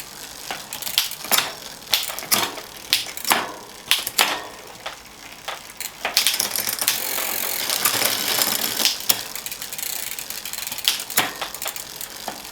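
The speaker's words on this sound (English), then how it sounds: "Check it goes down, back up, ratchet, ratchet, ratchet, ratchet, there we go." A salvaged skip bike's ratchet mechanism clicks in quick close bursts, short rattling runs separated by brief pauses, with one longer steady whirring stretch in the middle.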